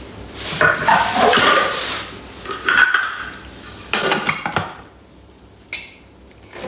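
A lid is fitted onto a Thermomix bowl holding vegetable stock paste ingredients and a generous handful of parsley: close clattering and knocking of hard plastic and metal, then a few separate clunks and a quieter stretch.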